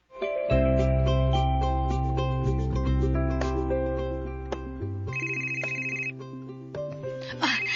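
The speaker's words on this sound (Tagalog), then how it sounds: "Ang akong cellphone mi bagting." A mobile phone rings loudly and up close with a melodic electronic ringtone, tones shifting in steady repeating phrases for several seconds with no talk over it.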